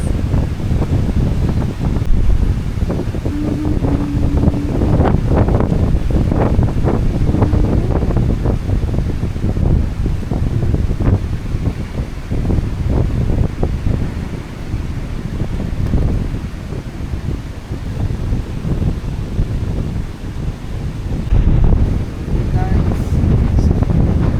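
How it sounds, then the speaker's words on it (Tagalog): Strong wind buffets the microphone in a steady, loud roar at an outdoor campsite cooking spot, with gusts rising and falling throughout and brief voices occasionally heard beneath the rumble. "Lakas ng hangin guys."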